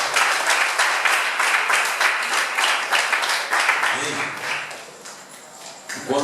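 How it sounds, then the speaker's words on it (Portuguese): A church congregation claps together in sustained, dense applause that rises and falls over several seconds before thinning out near the end. "Pode aplaudir o Senhor."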